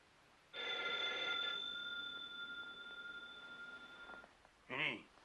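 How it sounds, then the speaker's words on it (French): An old telephone bell rings for several seconds in a quiet room, a steady metallic trill that is close and clear. Right after it stops, a brief voice speaks. "Ellie, téléphone, Ellie."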